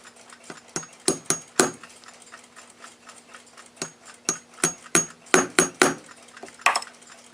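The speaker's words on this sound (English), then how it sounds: "I press them in with a standard staking tool with the flat punch." Metal bushing for a Gilbert clock pressed in with a staking tool and flat punch, giving a series of sharp close taps and clicks in irregular clusters, with a steady faint hum beneath.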